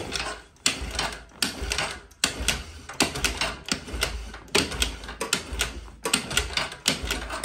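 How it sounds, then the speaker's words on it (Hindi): A bike or scooter kick-start lever is kicked over and over with the ignition switched off, giving a steady series of sharp mechanical clanks and rattles, close and fairly loud, with no talking. "कम से कम पाँच से लेकर दस बार लगातार अपने बाइक या स्कूटर के किक को मारना"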